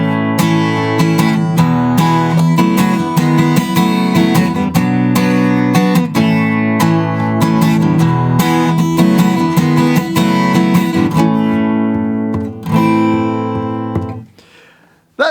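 A guitar strums chorus 2 of a song, a steady, loud chordal rhythm that carries on with no voice, then stops abruptly near the end and leaves a brief ringing decay.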